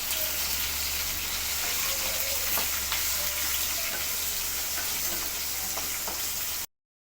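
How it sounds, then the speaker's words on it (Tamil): Sambar onions (shallots) and onion sautéing in hot oil for a traditional lentil-dumpling curry, a steady close sizzle with occasional light stirring taps, no talk. "சாம்பார் வெங்காயம், வெங்காயத்தூள் கொஞ்சம் சேர்த்துக்கிறேங்க. அதையும் சேர்த்து நல்லா வதக்கிக்கலாம்"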